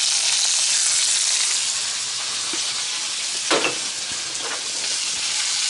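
Onions and Swiss chard stalks fry in a Dutch oven with a steady, close sizzle that holds for the whole stretch, briefly stirred partway through.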